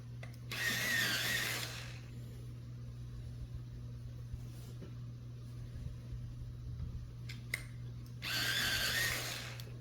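An electric sharpener sharpening colored pencil 164 gives two short close whirring bursts, one near the start and one near the end, separated by a quieter stretch of low hum.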